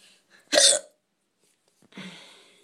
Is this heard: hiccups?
yes